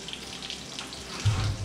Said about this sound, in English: Sounds like it's raining in here.